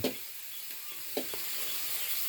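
Pork stir-fried in water in place of cooking oil, a steady soft sizzle and bubbling hiss with a few light clinks of stirring, close and continuous, no voices.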